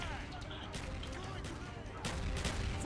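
Gunfire and grenade blasts from a Black Ops multiplayer match on PlayStation 3, a dense steady clatter of shots with a louder burst near the end, mixed under game noise and faint voices.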